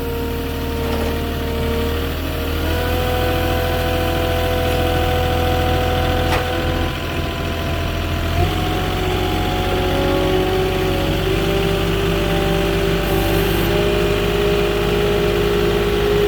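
Engine of a Moffett truck-mounted forklift on a drywall delivery runs steadily for the whole stretch, a constant, fairly loud mechanical drone with slight shifts in pitch as it works, and no talking.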